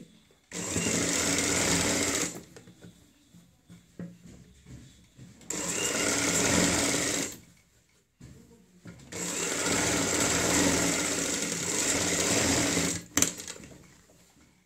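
A sewing machine topstitches the neckline of a patchwork kurti in three steady runs of a few seconds each, separated by short pauses, close and fairly loud with no talk over it.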